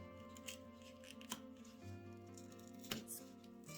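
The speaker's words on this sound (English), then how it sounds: "I don't even need scissors to take this box apart." A perforated cardboard box is torn apart by hand, heard close as quiet rasping rips with a few sharp tearing snaps spaced through the stretch, alone and without talk.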